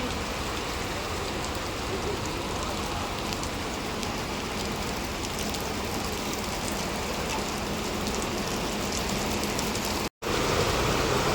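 Steady, dense rainfall patters loudly and continuously on surfaces outdoors, a full hiss of drops that breaks off in a brief silence near the end before resuming.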